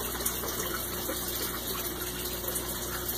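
Aquaponics greenhouse sump with water flowing steadily and a pump running, a continuous close rushing gush without pause.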